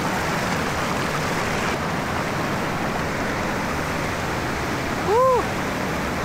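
A river rushes steadily at DRT Falls, Talon Pedro, a loud, even broadband roar of flowing water close by, with a brief whistle-like tone near the end.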